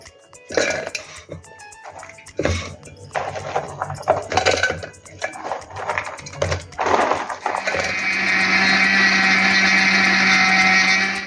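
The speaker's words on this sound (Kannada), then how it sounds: "ಮಿಕ್ಸಿಗೆ ಹಾಕಿ ಹುಡಿ ಮಾಡಿಕೊಳ್ಳುವ." An electric mixer grinder powders Bourbon biscuits. After several seconds of scattered vocal-like sounds, it kicks in with a loud, steady, high whirring roar that continues to the end.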